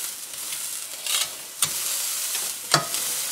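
A cheap, medium-thick beginner steak sizzling in a pan with fresh seasoning, a steady quiet hiss broken by a few brief sharp crackles and spatters.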